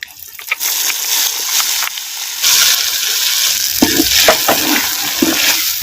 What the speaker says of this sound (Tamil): அரைச்சி சேர்த்த மசாலாவை அப்படியே தேங்காய் எண்ணெயில் நல்லா அப்படியே பச்சை வாசனை போகிற அளவுக்கு நல்லா அப்படியே கிண்டு கிண்டு நல்லா கிண்டுறோம்